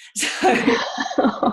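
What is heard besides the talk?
sneeze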